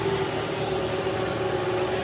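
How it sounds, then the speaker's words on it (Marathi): An electric tractor at an agricultural expo in Nashik runs steadily, giving off a faint, even hum with a thin tonal whine and no engine rhythm, heard close and continuous with no talking. "तर या ठिकाणी तुम्ही आवाज बघू शकता चालू केला आहे ट्रॅक्टर."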